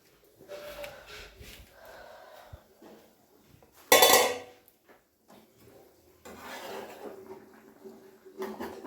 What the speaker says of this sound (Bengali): এরকম নাড়তে থাকতে হবে সবসময় নাহলে তলায় লেগে ধরবে না